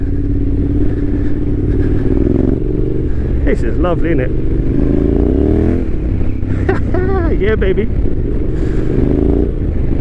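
A 2021 Yamaha Tenere 700 motorcycle riding off-road rumbles and revs steadily throughout, its exhaust note rising and falling, while two people talk over it.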